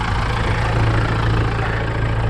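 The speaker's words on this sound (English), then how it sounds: "since we got the tractor running, we're gonna go push feed up" A tractor engine runs steadily at idle, a loud, close, continuous low rumble with a throbbing mechanical drone and no speech over it.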